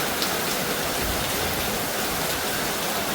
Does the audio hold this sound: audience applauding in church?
no